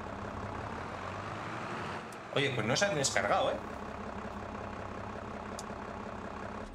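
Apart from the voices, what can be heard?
tractor engine in video game Farming Simulator 22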